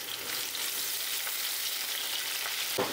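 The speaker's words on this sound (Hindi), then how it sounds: "प्याज को अब हम फ्राई करेंगे जब तक प्याज का कलर चेंज ना हो जाए।" Thinly sliced onions sizzle and crackle steadily in a hot pan for a home curry, a constant bright frying hiss close up with a soft stirring scrape near the end.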